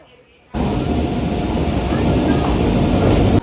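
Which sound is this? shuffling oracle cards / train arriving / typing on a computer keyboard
train arriving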